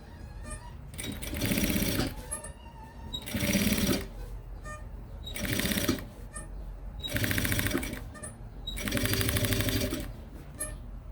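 A sewing machine stitches a Kipling-style pouch in five long, loud whirring runs with short quiet gaps between them. The machine is slightly loose and gives off a small rattle, heard up close with no talking.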